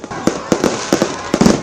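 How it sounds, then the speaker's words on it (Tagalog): New Year fireworks over the beach in Boracay, a rapid run of loud sharp bangs and crackles in uneven bursts, close and dominant, with no talk. "Worth it ang paghihintay dahil pambihira ang fireworks display by the beach na pinaenggrande pang lalo for 2025"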